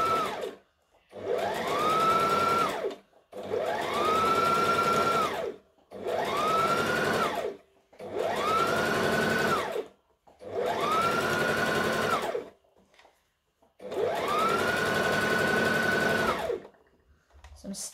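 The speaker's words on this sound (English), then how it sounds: "So I'm stitching it down underneath." A home sewing machine stitches fabric with interfacing in six steady, close bursts of a couple of seconds each, separated by short pauses, its motor whirring up and settling each time.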